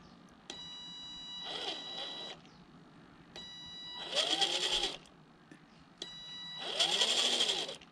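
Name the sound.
RC crawler motor running under throttle control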